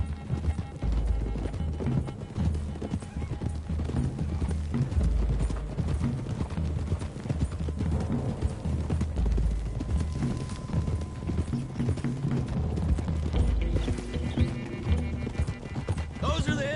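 Horses' hooves clip-clop steadily in Red Dead Redemption 2 as a group of riders travels along a road, the rhythmic hoofbeats continuous and fairly close under a dense mix of game sounds, with occasional whinnies and voices talking.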